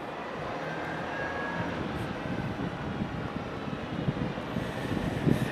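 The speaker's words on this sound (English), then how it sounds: "EasyJet go to London Gatwick. Airbus A319." An EasyJet Airbus A319 airliner at Madeira Airport, heard as a steady broad engine roar at a distance that swells slightly toward the end.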